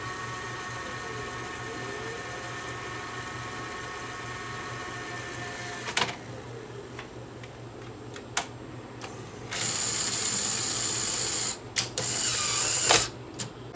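A Sony Betamax SLHF600 VCR rewinds a tape with a quiet, steady mechanical whir, broken by a few sharp clicks and a louder whirring stretch near the end, close by with no voices.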